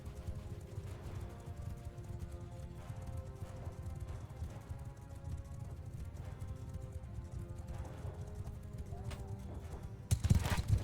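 Horses gallop in a Bannerlord video game battle, a faint continuous patter of many hooves over the clamor of fighting, with a louder burst near the end.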